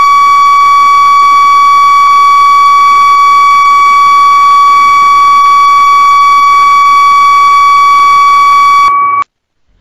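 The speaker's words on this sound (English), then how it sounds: "BZ2 buzzer sounds at the receiving station on train arrival on proper reception signals" BZ2 railway station buzzer at the receiving station, sounding for a train arrival: a loud, steady, continuous electronic tone lasting about nine seconds before cutting off abruptly, with no talk.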